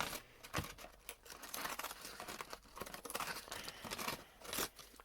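Paper crumpled by hand for a junk journal, with continuous close crinkling and crunching, dense irregular rustles and sharper crackles throughout, with no talking.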